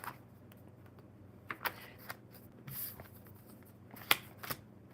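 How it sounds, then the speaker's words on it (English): Quiet, soft tarot card shuffling close by, with faint riffling and a few crisp snaps against a low background hum. "one more good shuffle for Lizzie."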